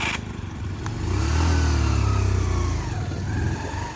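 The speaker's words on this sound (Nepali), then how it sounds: "मेरो फेरि बाइकको मोटर के गएको छ कि के गर्छ हो।" A motorcycle engine with a possible motor fault revs hard and close on a rural road trip between Aamchok and Ramprasad in Nepal, a loud sustained roar swelling and easing over a few seconds with no talk.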